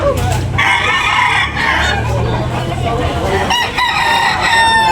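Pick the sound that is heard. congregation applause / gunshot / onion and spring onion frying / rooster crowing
rooster crowing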